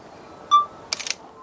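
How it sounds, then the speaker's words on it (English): Sony a7 II mirrorless camera firing its shutter, triggered remotely from a phone: a short electronic beep followed by a quick mechanical shutter clatter, close and clear in a quiet room. "Luckily on my Sony a7 II, I can release the shutter from my phone via the Play Memories app."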